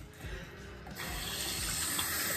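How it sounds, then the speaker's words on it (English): Hands washed under a running bathroom tap: a steady rush of water that grows fuller and louder as the hands move into the stream, close and continuous without speech. "Let me wash my hands and just keep the video going."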